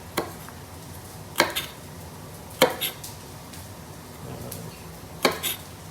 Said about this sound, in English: Cutting off these little roots